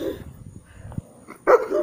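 Dogs barking, a German Shepherd and another white dog, with a couple of separate barks early on and a louder burst near the end, fairly close and loud with no talk over them.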